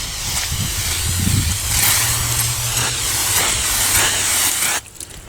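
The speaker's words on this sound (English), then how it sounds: "So what I'm going to do is spray a little wall spray" Aerosol wall spray hissing steadily from a can into the tubes of a 1985 Chevy K10 under restoration, one long continuous close burst that cuts off near the end.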